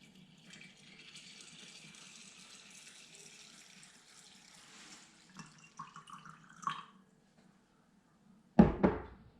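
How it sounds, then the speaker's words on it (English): Warm water poured from a tap or container over a cup of dried beans in a kitchen, a soft steady stream that trickles off, followed by a couple of louder clunks. "Next, we're going to pour some warm water on top of it."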